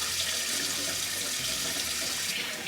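Kitchen sink tap running steadily as water wets hair, a close, continuous hissing stream with slight shifts in flow, no voices.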